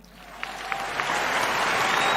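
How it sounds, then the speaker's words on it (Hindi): An audience breaks into applause that swells from a few scattered claps into a loud, dense ovation within a couple of seconds. "तालियां"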